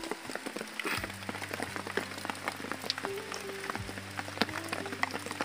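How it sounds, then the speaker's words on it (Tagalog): Rain falls on a farm, a steady pattering hiss with scattered sharp drops, close by, while a low engine-like drone hums beneath. "Ulan siya guys, oh."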